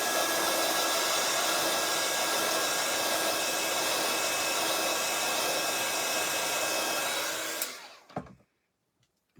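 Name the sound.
dryer blowing to dry stamped mirror card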